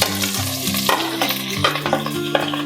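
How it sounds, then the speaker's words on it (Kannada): Chopped onions frying in hot oil, a loud close sizzle with continuous scraping and knocking of a spoon stirring them around the pan, no voices. "ಬಿಸಿ ಆದ ನಂತರ ಇದಕ್ಕೆ ನಾವು ಚಾಪ್ ಮಾಡ್ಕೊಂಡಿರುವಂತ ಈರುಳ್ಳಿನ ಹಾಕೋಣಂತೆ."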